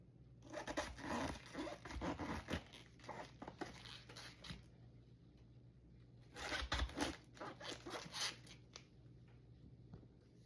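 Knife cutting the tough core out of a cabbage, heard as close crisp crunching and scraping strokes in two bursts with a pause between, working into the dense leaves.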